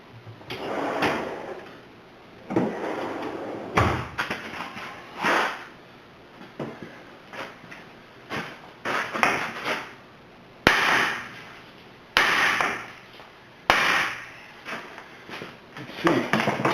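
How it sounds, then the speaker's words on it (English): A hammer strikes a lower ball joint on a Toyota Highlander steering knuckle, trying to break the taper, landing about a dozen loud, sharp metallic blows at uneven intervals with brief rings between them. "I'm gonna smack that with a hammer a couple times and try to break the taper"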